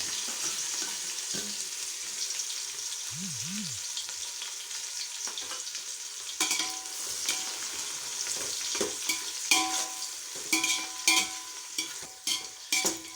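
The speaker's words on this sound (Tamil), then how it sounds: "நல்லா பொன்னிறமாகிற அளவுக்கு நல்லா வதக்குங்க" Onions sizzle and sauté steadily in a pan until golden, with occasional scraping and stirring clatter growing busier toward the end.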